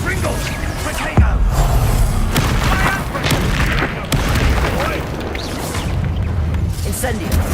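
Repeated fiery blasts of the Confringo explosive spell in Hogwarts Legacy, booming bursts recurring through a dense, loud battle mix with overlapping voices shouting.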